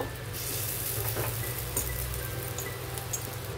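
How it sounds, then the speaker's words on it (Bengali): Onion fritters for dopiyaji frying in hot oil, a steady close bubbling sizzle with faint crackles throughout, no voices. "এখন আমি ডবল ফ্রাই করে নেব"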